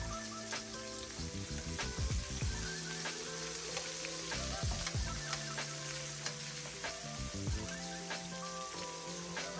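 Shrimp, chopped garlic and diced onions fry in a pan with a steady, crackling sizzle, broken by quick stirring scrapes and spatters, close and fairly quiet with no talking.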